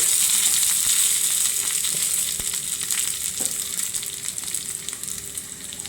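Curry leaves and dried red chillies sizzle loudly in hot oil in a steady, close frying hiss that eases slightly, with no talking.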